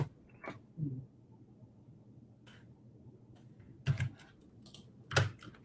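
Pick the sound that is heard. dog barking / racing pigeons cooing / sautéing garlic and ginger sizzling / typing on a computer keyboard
typing on a computer keyboard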